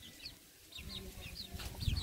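Six small chicks peep in quick, high chirps, close by, with faint scratching and rustling underneath.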